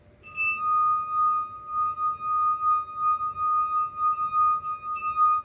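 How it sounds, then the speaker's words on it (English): A small glass filled with water is struck and gives a clear, high-pitched ringing tone that is pulsed and sustained as the glass is tapped repeatedly, close and fairly quiet, with no voices. "Let's see. All right, so the little glass."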